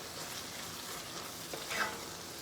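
Crawfish tails frying in a pan over high heat for Cajun corn maque choux, a steady, dense sizzle with faint stirring scrapes, close and continuous.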